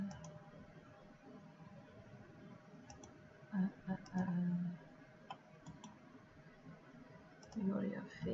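Sparse, light computer mouse clicks in CAD software tick at irregular intervals, faint and close, while someone speaks Swedish over them in short phrases.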